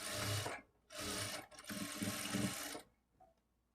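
A sewing machine stitches a lined blouse in close, loud bursts of rapid mechanical whirring separated by short pauses, with no talk.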